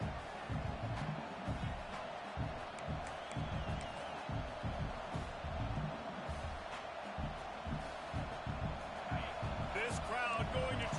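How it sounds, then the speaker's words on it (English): Stadium crowd noise from the College Football 26 video game forms a dense, steady roar with rhythmic thumps throughout, running under a commentator's voice. "This crowd going to try to make life miserable for these guys."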